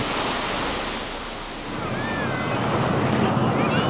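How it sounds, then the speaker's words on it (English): Ocean waves surge and wash continuously near the shore, a loud, broad rush mixed with wind buffeting the microphone. "Obviously, you can see the ocean right now."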